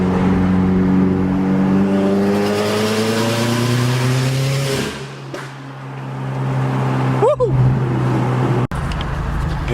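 A new Subaru WRX fitted with Killer B equal-length headers accelerates through the gears on a test drive. The engine note rises steadily and drops at each shift, with loud, continuous exhaust rumble from inside the car.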